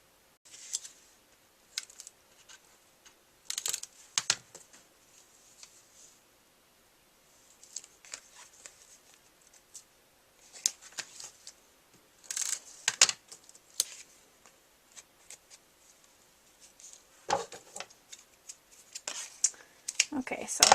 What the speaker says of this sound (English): I'm going to grab my scissors and snip that off